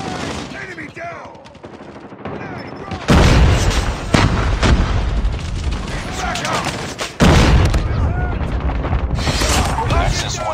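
Grenades blow up in the mobile shooter COD Mobile, two heavy booming blasts landing amid continuous rapid gunfire, with in-game voices calling out over the battle noise.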